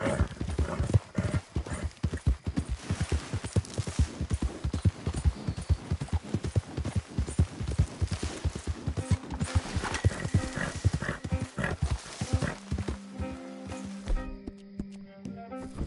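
Steady, rapid clip-clop of a ridden horse's hooves in a PS4 video game, loud and continuous, with a whinny near the end as the horse slows.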